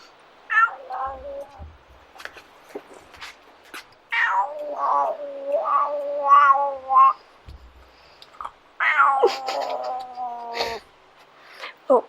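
A domestic cat gives several drawn-out, wavering meows and growling caterwauls in three loud bursts, close by, separated by quiet gaps with a few faint clicks.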